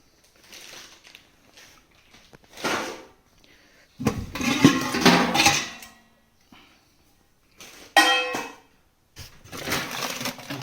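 Metal household utensils such as plates, a wok, a ladle, bowls and spice tins are handled in bursts of clattering and clanking, with short quiet gaps between each rummage.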